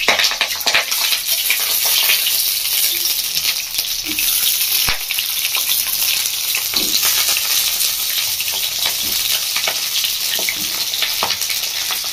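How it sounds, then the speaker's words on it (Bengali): Pointed gourds (parwal), slit on two sides, frying in hot oil with a steady loud sizzle throughout, occasional sharper crackles and clinks standing out from the dense hiss. "তো আমি এবার পটলগুলো ভেজে নেব"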